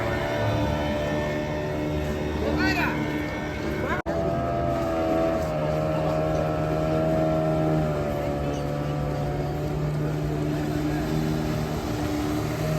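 At a boat race in Chennai, a racing boat engine starts with a rising, wavering motor whine. It then settles into a steady, loud drone over a constant low hum, with a person talking over it.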